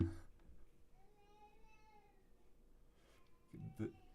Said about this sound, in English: I'm gonna take this cat sound, I'm gonna pitch it way down